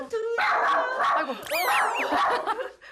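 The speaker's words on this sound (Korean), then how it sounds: "문제는 수강생들에게도 한없이 짖는다는 것인데요" A Schnauzer barks and yips repeatedly up close at visitors in a home, the excited barking mixed with people talking over it.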